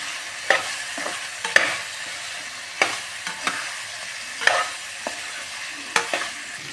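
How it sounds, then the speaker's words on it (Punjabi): Boiled potatoes being stirred into spiced masala in a pan for aloo sabzi, with a spoon scraping and knocking the pan about eight times in an irregular rhythm over a soft steady sizzle. "ਆਪਾਂ ਸਾਰੇ ਮਸਾਲੇ ਦੇ ਵਿੱਚ ਚੰਗੀ ਤਰ੍ਹਾਂ ਇਹਨਾਂ ਨੂੰ ਮਿਕਸ ਕਰ ਹਾਂ"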